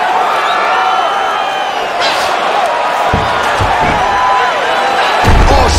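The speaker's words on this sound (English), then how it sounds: "She slams into the ground and with authority right there." A fighter in the UFC 4 video game, Rose Namajunas against Joanna Jędrzejczyk, is slammed hard to the canvas while an arm-bar is being defended. A few heavy thuds land near the end over steady arena crowd noise and commentary.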